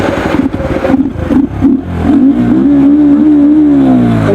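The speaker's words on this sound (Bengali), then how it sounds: "বাইকের একটা আওয়াজটা নাও" A Bajaj Pulsar NS125 motorcycle engine heard up close, loud, with a few short revs that settle into a steady, rising drone with no speech.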